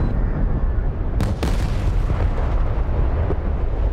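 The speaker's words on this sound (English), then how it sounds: "Cluster bombs coming in." Cluster bombs going off in the DCS flight simulator during an A-10 Warthog squadron attack on the WWII battleship Yamato: a sustained rumbling roar of blasts with a couple of sharper cracks near the start, loud and continuous.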